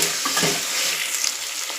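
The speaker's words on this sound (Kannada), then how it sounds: "ಬಟಾಣಿ ಎಲ್ಲ ಚೆನ್ನಾಗಿ ಎಣ್ಣೆಲಿ ಬೇಯಬೇಕು" Soaked peas frying in hot oil in a pan for drumstick leaves pulao, a close, steady sizzling hiss with light stirring, no voices.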